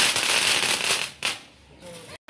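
A Diwali flower-pot firework sprays sparks with a steady loud hiss and crackle for over a second, fading, then a brief renewed burst near the end.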